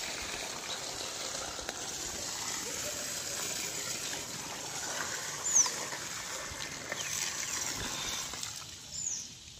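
A household electric water pump motor runs steadily, filling a bathroom water tank, with a continuous rushing, broadband flow of water throughout and a couple of brief louder splashes, no talking.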